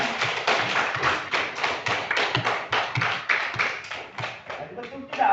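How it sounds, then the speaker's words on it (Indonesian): Classmates clapping in a classroom: a rhythmic, fairly close burst of hand claps in a steady beat, gradually loosening and tapering off, with a few voices underneath. "Tepuk tangan untuk teman-teman."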